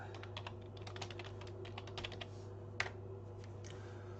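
Quick bursts of keystrokes on a computer keyboard, close and fairly quiet over a low electrical hum, typing a short command, then a final sharp key press.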